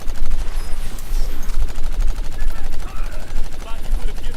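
Rapid bursts of video game gunfire from Agents of Mayhem, loud and continuous, with dense shots landing headshots amid action effects; a player speaks over the shooting.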